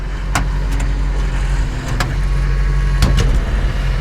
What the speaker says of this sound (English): Let's do like a half throttle pull.